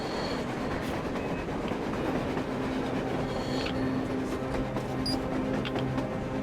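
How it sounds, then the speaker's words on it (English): A train runs on rails across the surface in the video game Metro Exodus, giving a steady, loud rumbling clatter that continues throughout with no speech. "A train! A damn train on the surface!"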